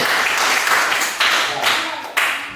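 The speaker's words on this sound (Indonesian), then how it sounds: "Tepuk tangan buat kelompok B. C." Steady applause from a roomful of people, dense clapping that swells and renews in bursts before fading out.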